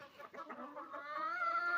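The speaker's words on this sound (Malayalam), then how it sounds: "കോഴി മുട്ടയിടുന്നു. കുഞ്ഞു മുട്ട." A small laying hen clucks close by, a quick series of short clucks that runs into a longer, rising drawn-out cackle, fairly quiet with no talk.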